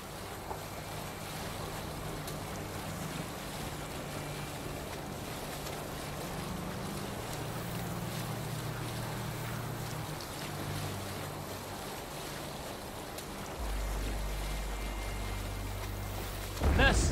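A Viking longship sailing on a fjord in Assassin's Creed Valhalla, with continuous water wash and wind, low creaking tones, and a louder surge near the end.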